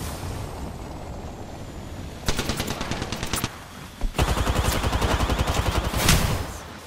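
Automatic gunfire in Apex Legends, two rapid bursts of close, loud shots, the second longer and more sustained, with a short gap between them.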